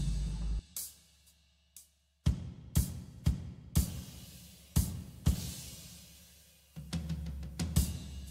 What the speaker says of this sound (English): we got a drum break and a drum fill put together, and it sounds like this